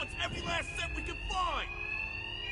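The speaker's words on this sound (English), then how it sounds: "Two-Face's thugs won't hear me over the alarm" Alarm from the video game Batman: Arkham Knight rings as a steady high tone through the whole stretch, with people talking loudly over it.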